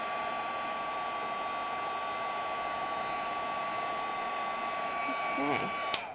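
Heat gun blowing a steady, loud hiss as it melts superfine detail embossing powder for a faux window card technique, with a brief voice near the end.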